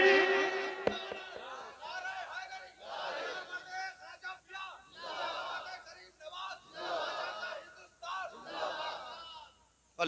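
A large crowd at a religious gathering answers a takbir call with loud, repeated chants of Allahu Akbar, rising and falling in several rhythmic waves.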